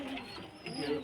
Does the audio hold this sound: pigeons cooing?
yes